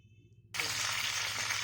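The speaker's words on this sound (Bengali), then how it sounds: "ঢেঁড়সগুলোকে লাল করে ভেজে নিচ্ছি।" Okra frying in oil in a wok (kadai): a sudden loud sizzle bursts in after a brief quiet moment, then hisses steadily and close up with no talking.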